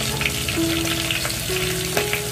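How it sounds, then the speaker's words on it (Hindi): Ginger garlic paste frying in hot oil for an aloo baingan curry, a steady close sizzle with a faint hum underneath and a few soft scrapes, no voices. "इसमें जो है हम अदरक लहसुन का पेस्ट डालेंगे।"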